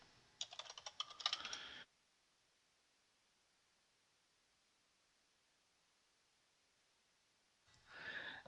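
Two short bursts of rapid typing on a computer keyboard at a home machine, with a long stretch of near silence between them; the keystrokes are soft and fairly close.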